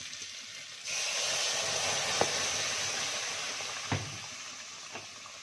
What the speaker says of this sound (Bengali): আমার মাছের সঙ্গে মশলাটা কষানো হয়ে গেছে, এবার ডালটা ঢেলে দেবো।